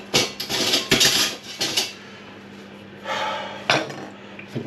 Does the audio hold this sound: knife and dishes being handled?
yes